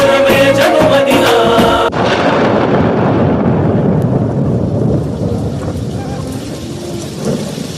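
Thunder rumbles loudly over a village during a rainstorm, with steady heavy rain throughout. Music plays over the first two seconds, then the storm continues alone.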